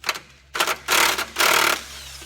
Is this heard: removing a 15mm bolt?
yes